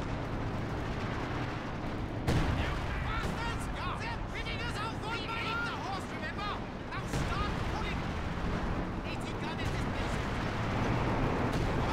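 Artillery fire rumbling through a Company of Heroes 2 battle on the Lienne Forest map, a continuous wash of distant booms and battlefield noise with a sharper blast after a couple of seconds and a faint babble of voices underneath.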